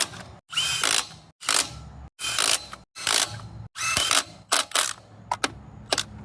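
Hand ratchet tightening bolts on the front brakes of a 1998 Toyota Prado, loud close bursts of rapid clicking in about eight separate runs, each a quick pawl chatter, divided by short pauses.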